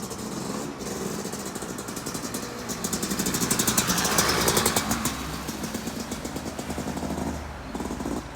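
A racing motorcycle at the Isle of Man TT approaches and passes, its engine swelling louder toward the middle as it nears, revving hard, then receding a little toward the end.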